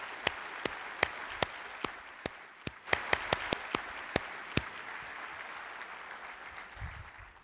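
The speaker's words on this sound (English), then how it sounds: "So a huge round of applause for the leadership of ATA and all of our commercial partners." A symposium audience claps at an aviation gathering, a soft, steady spread of applause with crisp, distinct claps punctuating it, fading toward the end.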